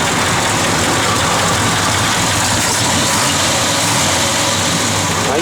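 A 1968 Chevrolet Chevelle SS engine idles steadily and loudly up close, a continuous broadband rumble that holds without change for several seconds and has no voices over it.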